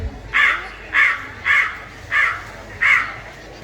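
Five loud, evenly spaced crow caws ring out alone at a school class drama, each a harsh burst about half a second apart, with a faint room hum underneath.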